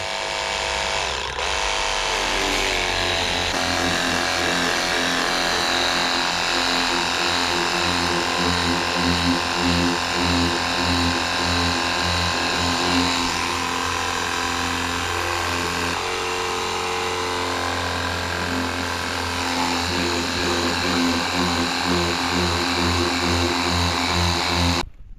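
A cordless battery-powered mini pressure washer runs steadily and loudly for the whole stretch, its motor hum unbroken from start to finish with no talk over it.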